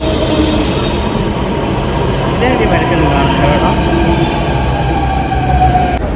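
A Delhi Metro train rumbles steadily with a faint metallic squeal as it pulls into the platform, while a person talks over the continuous noise.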